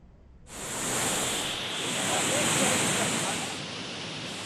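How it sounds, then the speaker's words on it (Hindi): A flooded river rushing along its banks at Dharchula in Uttarakhand, a loud broad roar of water that bursts in abruptly and holds steady, with only slight swells. "पानी की धारा अपने साथ सब कुछ बहा ले जाने पर आमादा है"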